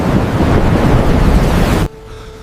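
A storm at sea roars with loud, steady wind and crashing waves, a dense wash of noise that cuts off abruptly near the end, leaving a faint low hum.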